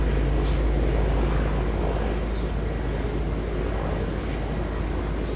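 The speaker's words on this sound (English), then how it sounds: "I think Qantas will make their way out onto the active runway now" A Qantas airliner taxis out toward the active runway at Auckland Airport, its steady, broad engine roar heard from a distance under wind rumble, without any voices.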